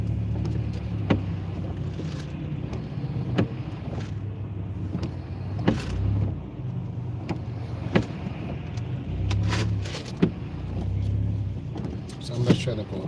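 A car drives up a highway ramp with fast traffic behind it, a steady engine and road rumble with occasional bumps and swells while a person talks over it.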